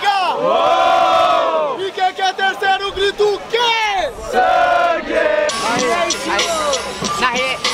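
A rap battle crowd roars and shouts in loud bursts, voices rising together in chanting cheers with brief dips between waves.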